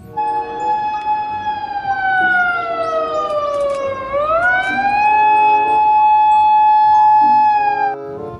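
A toy police car siren sounds loud and near, its tone gliding down, then swinging back up and holding steady, with no voices over it.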